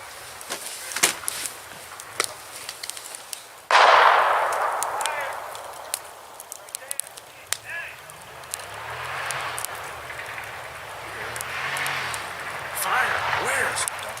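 A single sharp gunshot cracks out in a forest at night, fired by teenagers, with its echo fading; other faint pops and rustling follow, while hushed voices murmur nearby.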